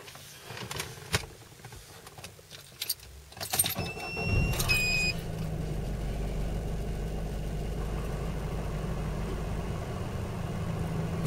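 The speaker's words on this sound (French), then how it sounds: "quand je démarrerai le véhicule" A car engine with a diesel particulate filter cranks after some handling clicks and chirps, catches, and settles into a steady low idle rumble, with no talking.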